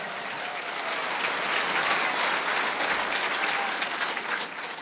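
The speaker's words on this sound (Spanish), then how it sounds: "Fuerte aplauso, iglesia de Cristo." A church congregation claps together in steady, sustained applause, a dense wash of hand claps that holds at full strength for several seconds with no voices standing out.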